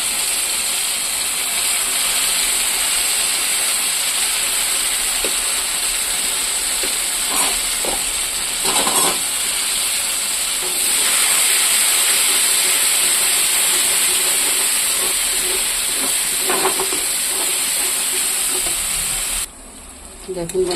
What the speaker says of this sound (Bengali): মশলাটা আমার ভাজা ভাজা হয়ে গেছে, এটা দিয়ে তেল ছেড়ে দিয়েছে